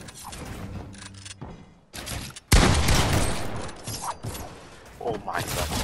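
Video game gunfire in loud, rapid bursts with mechanical clacks and rattles, loudest in a heavy barrage partway through, with voices heard at times.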